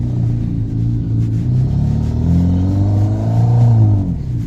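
Motorcycle engine sound effect played through a car's audio system, a loud low rumbling engine note with rising and falling revs, steady and close.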